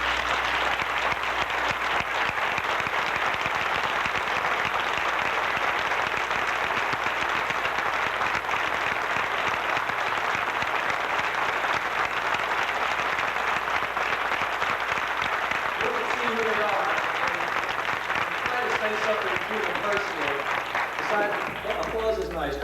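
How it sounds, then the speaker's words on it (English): Audience applause at a roast held by a choral group, long and steady with many hands clapping loudly, and voices starting to talk over it near the end. "Applause is nice."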